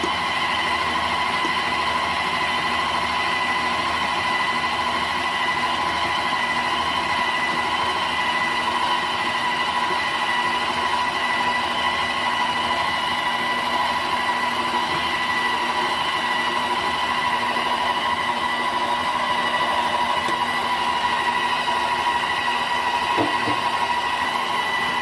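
An electric stand mixer running at fourth speed through pound cake batter, a steady, unbroken motor whir with a constant hum that goes on for the whole stretch, close and fairly loud, with no talk.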